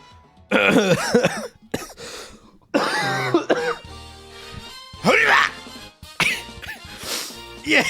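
Repeated close coughing fits and throat clearing indoors in a streamer's room, in loud bursts separated by short pauses, with a voice groaning between them.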